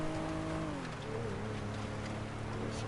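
A car in the GTA video game climbs a snowy hill, its engine droning steadily with a low hum that shifts pitch slightly, close and continuous with no talking.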